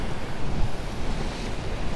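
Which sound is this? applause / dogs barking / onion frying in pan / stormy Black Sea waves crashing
stormy Black Sea waves crashing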